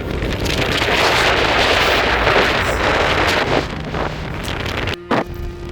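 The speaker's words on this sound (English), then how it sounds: "don't know if you can actually hear the wind" Strong wind on a foggy, misty mountain ridge in the Pen y Fan range, loud rushing gusts buffeting the microphone before easing, with a brief sharp knock near the end.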